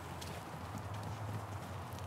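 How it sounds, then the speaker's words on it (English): Horses run on open ground, their hooves giving a soft, fast clip-clop that sounds distant and faint over a low background rumble. "Oh, horses are running."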